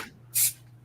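A single short, breathy burst, over in under a quarter second, sharp and hissy like a stifled sneeze, with quiet background otherwise.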